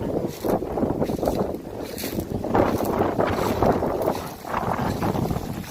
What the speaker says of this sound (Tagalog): Grabe hangin guys